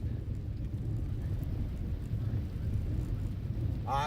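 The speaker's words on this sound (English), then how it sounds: "I'm out here in the rain walking" Steady rain falls outdoors as someone walks through it, a continuous low wash of noise filling the whole stretch, with a brief higher rustle or swish near the end.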